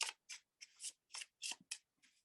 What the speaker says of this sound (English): So I will go ahead and get shuffling.